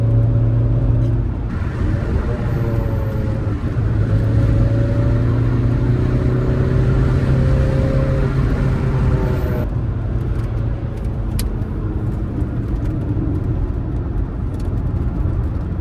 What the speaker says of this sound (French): le bruit du moteur est largement mieux maintenant